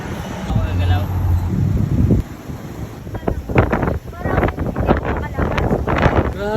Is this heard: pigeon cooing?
no